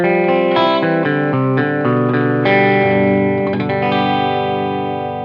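Electric guitar played with a clean tone carrying a slight edge of distortion, ringing out a steady run of loud, sustained notes and chords with no talking.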